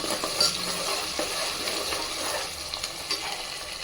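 Black peppercorns sizzle steadily in hot oil for khichdi upma, a dense continuous frying hiss with a few faint crackles and spoon stirs, close and fairly loud, with no voices.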